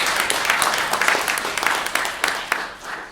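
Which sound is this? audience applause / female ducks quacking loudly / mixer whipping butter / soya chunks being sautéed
audience applause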